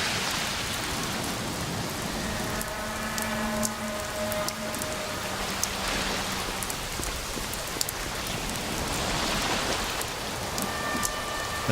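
Heavy rain in the video game Overclocked: A History of Violence, a dense steady hiss of downpour with scattered drips and splashes and faint tonal game sounds drifting underneath.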